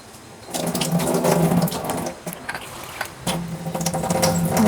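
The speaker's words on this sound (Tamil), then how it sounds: "இப்போ இதை வந்து புதினாவை நல்லா வாஷ் பண்ணிடலாம்." Fresh mint leaves rinsed under a running tap in a kitchen sink while making chutney, a steady splashing water stream with brief dips and surges, close and fairly loud, no voices.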